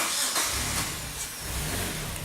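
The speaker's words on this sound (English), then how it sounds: "Okay, I'm going to have Cortland start it" A Hyundai car engine, which runs rich with a mass airflow sensor fault, turns over and settles into a steady idle, its low mechanical hum continuous and close.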